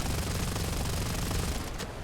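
In War Thunder, the rear turret machine gun of a Bf 110 G-2 fires a rapid continuous burst, dense and rattling, fairly quiet in the mix and cutting off just at the end.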